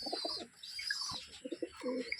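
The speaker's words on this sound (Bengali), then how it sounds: "সবুজ পায়রাটা দেখুন" A green pigeon kept as a pet alongside a pair of other pigeons coos close by. Soft repeated coos mix with brief chirps in short bursts.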